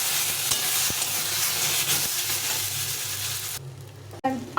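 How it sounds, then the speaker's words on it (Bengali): Spices sizzling steadily as they sauté in a curry base for fish head and potato dal, a dense even frying hiss close by, with a brief break and a clatter near the end. "এই মশলাটা তরকারির মধ্যে দিয়ে কষিয়ে নেব"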